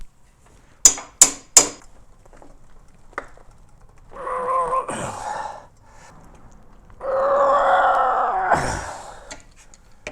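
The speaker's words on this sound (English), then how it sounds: "now we're going to try the hammer" A hammer strikes a stuck lawn mower blade three times in quick succession, each hit sharp and close. Scraping, shuffling work noises follow, with no talk.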